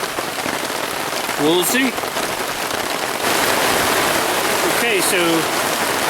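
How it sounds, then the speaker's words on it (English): Heavy rain falls on a campsite, a loud dense constant patter throughout, with a person speaking briefly twice over it. "it's raining really hard right now"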